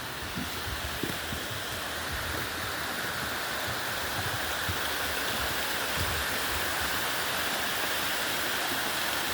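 A small man-made waterfall in Victoria Park pours into a cauldron or tub, a steady dense rushing splash that carries on unbroken and close.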